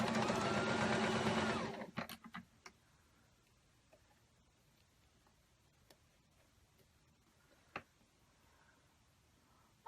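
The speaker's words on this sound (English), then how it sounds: "a handful of stitches backwards, handful of stitches forward, and we are done with this side" A sewing machine stitching a tiered hammock runs loud and close for about two seconds, then stops. A few soft clicks and faint handling ticks follow in near silence.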